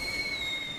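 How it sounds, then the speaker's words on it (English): Flare gun firing on a desert island after a shipwreck, heard as a short, steady whistling hiss that holds evenly for under a second. "That isn't even a real gun, it's a flare gun!"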